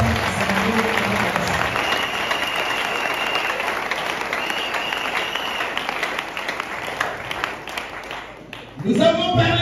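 A church congregation at an evangelism campaign service applauds the Father with sustained, dense clapping that fills the hall and gradually thins out before a voice returns at the end.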